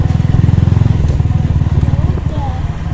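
A still-warm motorcycle engine is revved on a town street in Cacimba de Dentro, with a loud, rapid pulsing exhaust throb that swells and then eases, heard up close alongside a nearby voice.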